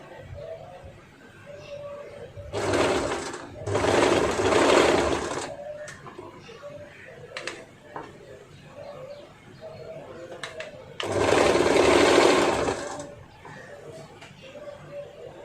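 A sewing machine stitches a kameez in three separate loud bursts, two close together early and one later, with pigeons cooing and faint chatter in the quieter gaps between runs.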